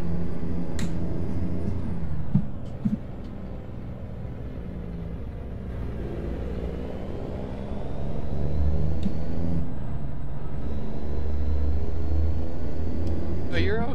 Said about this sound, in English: not even fazed by the loud engines of these trucks